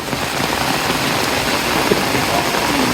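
Steady rain pattering on a surface, a continuous dense hiss with no voices, fairly loud and close throughout.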